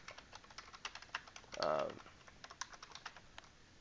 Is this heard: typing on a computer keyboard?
yes